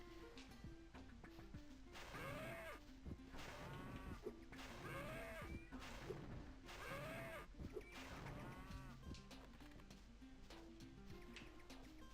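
Cows moo repeatedly in the Spyro 2 game on PS1, three clear moos spaced a couple of seconds apart over looping background music.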